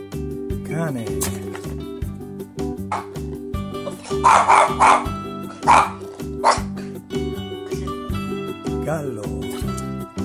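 Dog barks in a few short bursts at a children's animal-learning segment, heard over steady background music.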